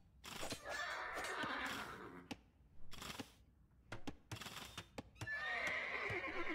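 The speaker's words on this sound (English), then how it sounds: "You lost too many horses in that attack." Horses in a strategy game battle, several loud close neighs and whinnies repeating in bursts, mixed with clip-clop hoof clatter and sharp clicks, with brief quiet gaps between.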